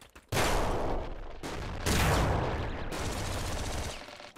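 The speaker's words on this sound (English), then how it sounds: "That's the bouncer shotgun, huh?" Bouncer shotgun firing in the video game Nuclear Throne, a dense loud barrage of rapid gunfire in sustained bursts with short breaks between volleys.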